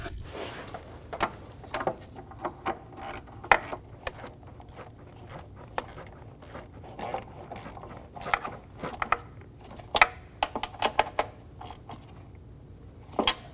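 Nuts are threaded by hand onto intake studs of a 2008-2015 Scion xB 2.4L four-cylinder engine, producing a close run of small metallic clicks, taps and ratcheting rattles in irregular bursts.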